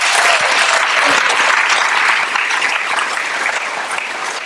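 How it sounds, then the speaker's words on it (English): Loud, dense applause from an audience at a hospital ribbon cutting, sustained clapping throughout with a slight easing toward the end, no voices over it. "So everybody give a round of applause."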